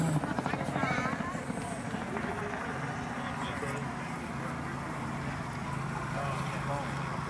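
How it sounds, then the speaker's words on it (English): A helicopter hovers over a golf course before a golf ball drop, its steady thumping rotor drone continuous and fairly close, with people talking over it. "this helicopter's about to drop"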